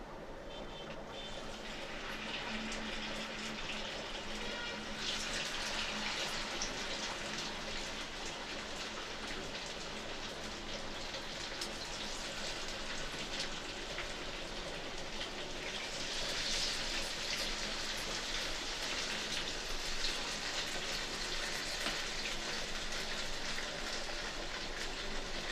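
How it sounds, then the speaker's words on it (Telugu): Fish pieces frying in hot oil in a home kitchen, a steady dense crackling sizzle that swells louder partway through and continues without pause; no talking. "ఇదిగండి ఫిష్ ఫ్రై అయితే వేస్తున్నాను"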